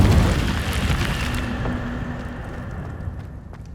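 A fiery Incendio spell blast from the Hogwarts Legacy video game bursts loudly with a broad roaring whoosh, then fades steadily over a few seconds.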